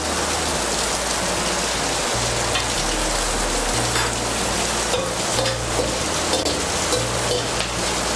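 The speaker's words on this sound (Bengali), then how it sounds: "ফোড়নটা দিয়ে একটু নাড়াচাড়া করে নেব" Whole cardamom pods, cloves and a cinnamon stick crackle and sizzle loudly in hot oil for chana dal, with a steady dense frying hiss and occasional stirring scrapes throughout.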